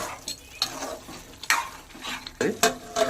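Goat meat curry stirred in a pot, repeated scraping and clanking of a spoon against the metal at an irregular rhythm over a faint sizzle, close by.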